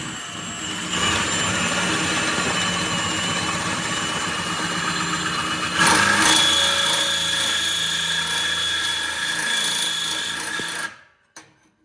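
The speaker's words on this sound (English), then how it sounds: "I'm gonna show you guys a little example of how to drill your cat." A power drill bores through the catalytic converter of a stock Harley-Davidson Touring exhaust, whining loudly and steadily, rising in pitch and strain midway, then stopping abruptly into silence.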